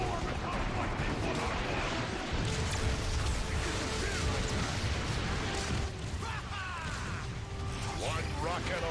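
Metroplex launching an artillery strike in Transformers: Fall of Cybertron, a dense, continuous barrage of booming blasts and mechanical clatter filling the whole stretch, with game voices faintly under it.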